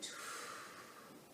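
A single soft exhale during a seated exercise routine, close and quiet, trailing off gently.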